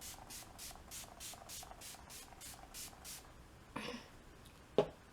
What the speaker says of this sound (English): we're going to go in and set it with the Urban Decay setting spray